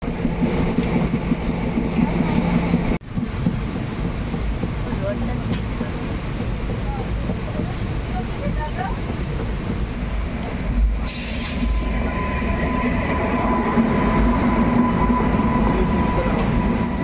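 A special passenger train runs through the night on the Santragachi to Puri route, with a steady, loud rumble of wheels on rails and occasional clatter and squeal from inside the coach.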